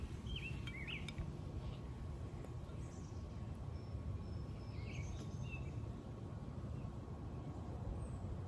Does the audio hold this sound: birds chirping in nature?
yes